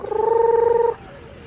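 A chicken gives a short, close trilling cluck lasting under a second, followed by quiet.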